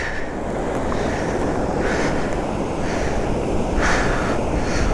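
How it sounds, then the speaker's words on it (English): Surf rolls steadily onto a wild beach in the middle of spring, a continuous wash of breaking waves with a few louder swells, mixed with wind buffeting the microphone; no voices. "A wild beach. The middle of spring."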